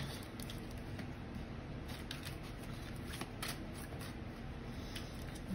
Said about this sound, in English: I put it back in and I shuffled some more.